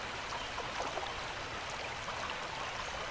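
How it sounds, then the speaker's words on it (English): Constant running-water ambience in a video game, a loud, near, trickling stream rushing on evenly with faint droplet-like flickers and nobody speaking. "that running water sound is really loud in my ears"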